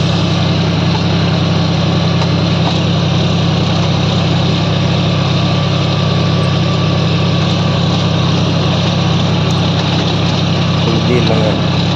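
Small engine of a motorized sprayer running steadily on a mango farm, a loud, constant droning hum close by with no pauses, heard without speech.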